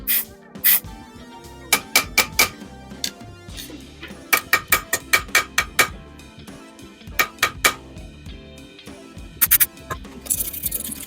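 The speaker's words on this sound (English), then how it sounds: "I am using contact cleaner, and we will check after cleaning." Contact cleaner is sprayed inside a washing machine in a series of short, sharp hissing bursts, some in quick clusters and others spaced apart, close by with light clicks and handling noise between them.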